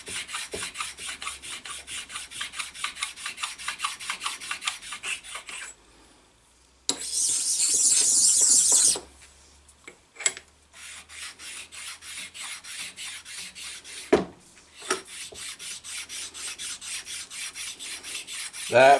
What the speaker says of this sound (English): now I'm going to go over the sliding surfaces with a smaller set of precision ground stones